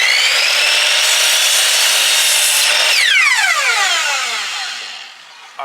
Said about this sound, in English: Let the saw do the work.